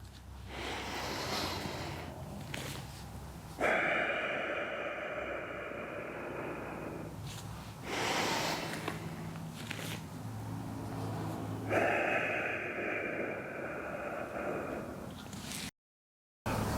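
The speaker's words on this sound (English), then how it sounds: "I'm going to take a deep breath in as I go back." Deep breaths drawn in and pushed out during a golf swing, long airy inhales and exhales in repeated cycles, close and fairly quiet with no talking.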